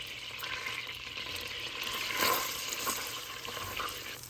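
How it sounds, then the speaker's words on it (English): Butter browns in a pan over medium-high heat, a continuous close foaming sizzle that swells briefly midway, with light bubbling and no talking. "Just cook it on medium high heat until it turns golden."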